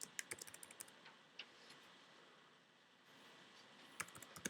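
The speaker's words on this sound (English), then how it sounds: "So if I type in here" Quiet clatter of computer keyboard keys in short bursts, a quick flurry at the start, isolated taps in the middle and another brief run near the end, faint and close.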